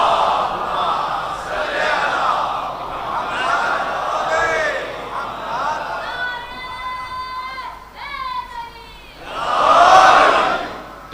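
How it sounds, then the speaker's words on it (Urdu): A mosque congregation at a Shia majlis in Ancholi, Karachi, loudly recites salawat in unison, the crowd's voices swelling near the end after a stretch of mixed voices and chanting. "ایک بلند صلوات پڑھ دیجئے محمد و آلہ۔"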